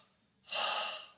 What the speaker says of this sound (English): Let's inhale with a double breath, and let's tense our body.